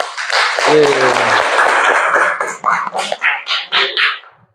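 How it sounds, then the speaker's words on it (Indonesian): Classroom applause for a student group after its presentation, a loud burst of clapping with voices mixed in, thinning into a few separate claps near the end. "terima kasih untuk kelompok 1, tepuk tangan dulu"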